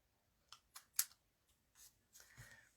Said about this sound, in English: Trim this one up a little bit.